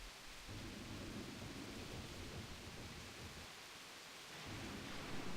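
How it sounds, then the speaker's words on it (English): A thunderstorm in the video game Grandia 2 rumbles low and continuously under steady rain-like hiss, with a swelling roll near the end and no talking. "Yet the storm and rumblings only grew worse."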